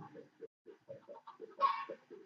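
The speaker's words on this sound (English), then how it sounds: "What is that? Chickens." Minecraft chickens clucking in a short series of soft, clipped clucks at a steady rhythm, close and moderately quiet, with one brighter squawk in the middle.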